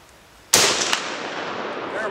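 A single loud shot from a Carl Gustav 1896 Mauser rifle cracks sharply after a quiet moment, then a long echoing tail rolls away outdoors.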